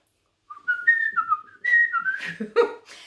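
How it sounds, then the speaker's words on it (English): A person whistles a wandering melody alone, clear and close, with short phrases sliding between high notes and a few breathy accents. "So yes, I can whistle."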